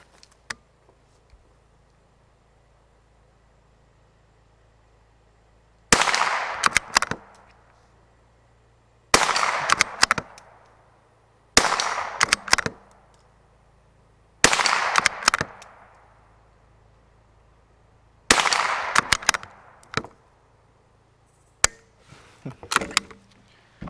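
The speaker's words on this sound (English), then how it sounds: "I want to do a little bit of rapid fire on my 4-inch target" Rapid fire from a Savage Mark II FV-SR rifle at a 4-inch target: six sharp bursts of closely spaced shots, each a quick cluster of cracks, separated by pauses of a few seconds against a quiet background.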